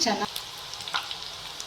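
Spicy chilli chakli fries in hot oil, a brief, close, bubbling sizzle with a louder burst at the start that settles into a softer, even crackle.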